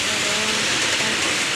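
Heavy rain falling in stormy, windy weather, a dense, steady broadband hiss that stays loud and unbroken for a brief stretch with no distinct drops, and no talking.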